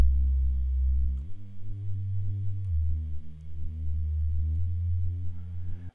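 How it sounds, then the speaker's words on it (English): A soft, deep wonk bass synth preset played in Ableton's Simpler gives a mellow, low sustained tone, with several held notes shifting in pitch and no voices over it. "So here I have this wonk bass, and it's one of the simpler presets"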